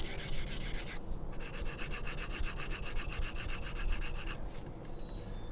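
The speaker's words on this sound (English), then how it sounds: "take a Scotch-Brite, just rough it up a little bit." A Scotch-Brite pad rubs back and forth across the surface of a turkey call, a close, continuous scratchy scuffing with quick repeated strokes and a short pause partway through.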